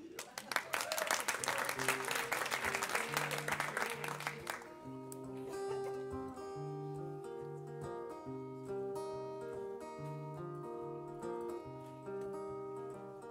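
An audience at a closing concert applauds a performer, with clapping for about four and a half seconds that fades as a melodic instrumental passage takes over.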